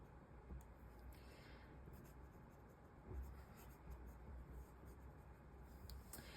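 Faint continuous scratch of a Pilot Custom 74 fountain pen's F nib gliding across paper, soft and close, with a few small taps and strokes.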